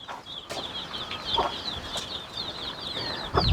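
A broody hen kept as one of several sitting on eggs gives soft repeated clucks, a quick rhythmic run of short calls, close and fairly quiet over faint rustling.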